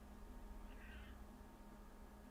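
A crow caws in an anime episode, a short faint call rising briefly above a quiet, hissy background.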